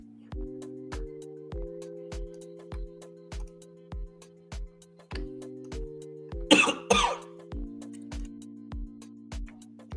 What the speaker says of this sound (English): I didn't want to cough in y'all's ear.